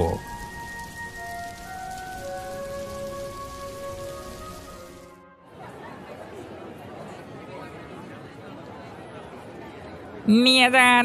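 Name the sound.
rain falling with thunder, cartoon sound effect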